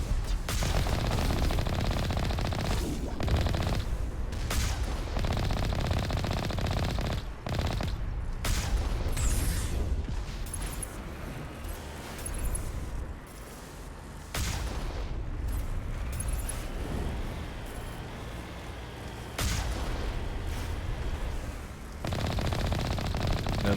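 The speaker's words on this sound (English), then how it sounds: "Nothing like heavy weapon sniping" Heavy weapon fire in the Mass Effect video game sounds as dense, sustained loud bursts of rapid gunfire and booming shots, nearly continuous with brief dips, close and dominant with no talking.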